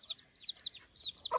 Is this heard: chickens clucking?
yes